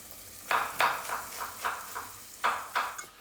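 Shallots sweating in a pan, heard as a quiet steady sizzle broken by a series of soft scraping strokes from a utensil, evenly spaced at a moderate pace and fairly close.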